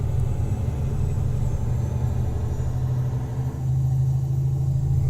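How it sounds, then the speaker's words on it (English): Steady, loud low engine rumble of a truck in a driving simulation game, cruising on a highway route from Phoenix to Las Cruces, droning continuously with a brief dip midway. "Truck performance dynamics and everything about it is all built into this game."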